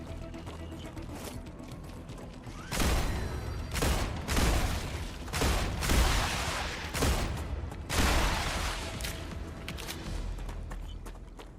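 Rifle fire in the sci-fi game StarRupture, loud bursts of shots in several rapid volleys with brief gaps between them, close and dominant, trailing off toward the end.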